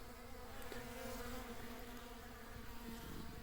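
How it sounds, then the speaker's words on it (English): Bees robbing out a hive, a dense continuous buzzing swarm with steady droning tones close by, no voices. "one way to tell if you have bees robbing out a hive"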